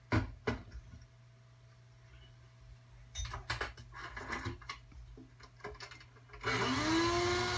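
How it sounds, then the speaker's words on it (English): A big vacuum cleaner being used on a guitar under repair: scattered wooden knocks and handling noises, then the motor switches on loudly near the end and settles into a steady roaring whine. "Big old vacuum cleaner, huh?"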